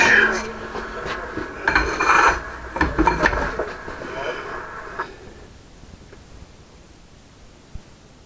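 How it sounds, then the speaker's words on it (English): A pipe wrench grips and turns a metal hydraulic ram part, producing rough grinding scrapes and rasps in bursts for about five seconds before falling quiet, with a low voice present. "So, good old pipe wrench."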